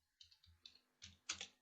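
Keys tapped on a computer keyboard while entering a YouTube search, a quiet run of about five short clicks in uneven rhythm, close and alone with no talking.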